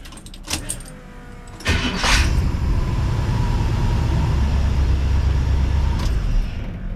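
A hot engine fitted with FiTech Go EFI cranks briefly and fires right up, then settles into a steady, loud, even idle close by.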